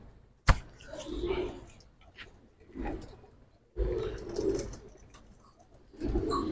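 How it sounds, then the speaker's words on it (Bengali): Giribaz and high flyer pigeons in a loft coo in repeated low throaty bursts, close and clear, with a sharp knock near the start. "ছাড়ার জন্য খুব ভালো কবুতর।"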